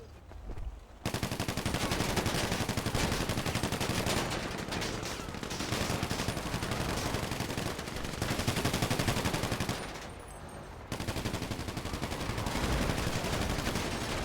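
Rapid automatic gunfire in a multiplayer shooter match, dense continuous bursts that nearly fill the clip, broken by two brief gaps before the shooting resumes, loud and close.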